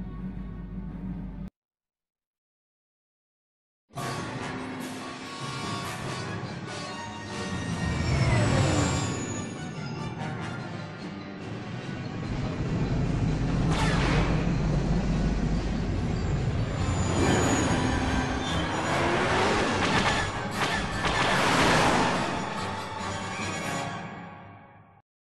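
In the Star Wars: Knights of the Old Republic video game, a gun turret battle against Sith fighters roars as a loud, continuous stretch of laser fire, engine rumble and explosions after a short silent gap near the start.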